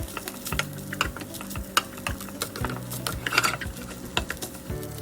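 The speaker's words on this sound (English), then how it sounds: "Saute very well." Cooked rice being stirred and sautéed in a pan for sobameshi, a Japanese fried noodle-and-rice dish: repeated scraping spatula strokes and knocks over a low sizzle, close and irregular, with no talking.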